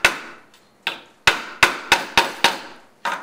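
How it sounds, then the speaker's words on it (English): A hammer taps a glued steel nail into a hole in wood for a shop-built compass, sounding as about eight sharp, close knocks at uneven intervals, each one ringing briefly, with no voices. "Then I'm going to tap it into that hole."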